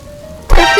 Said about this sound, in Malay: Hujan mula turun.